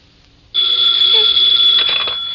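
Telephone ringing in a radio drama: a sharp, bright electronic bell rings loudly and continuously after a brief quiet start, with a steady shrill tone and a slight warble.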